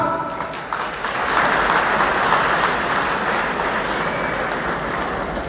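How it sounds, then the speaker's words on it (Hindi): A crowd at a BJP political rally in Hisar bursts into loud, sustained applause that swells after a second and keeps going, dense and close, with faint voices mixed in. "आपका अभिनंदन किया है तो ताली जोर से बजाओ।"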